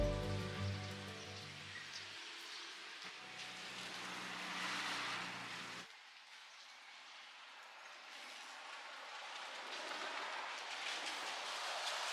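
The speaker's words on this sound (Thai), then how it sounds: "กับสายฝนที่โปรยปลายลงมา ทำให้พื้นถนนชุ่มฉ่ำไปด้วยน้ำ" Steady rain hisses across a road on a rural trip in Isan, Thailand, with a low rumbling engine-like drone in the first half that cuts off partway through.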